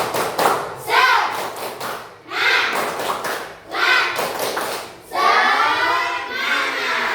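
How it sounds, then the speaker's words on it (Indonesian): A classroom group performs a rhythmic spirit clap (tepuk semangat) for group 2: loud bursts of patterned clapping, roughly four in a row, mixed with shouted voices. "Ayo kasih tepuk semangat untuk kelompok 2."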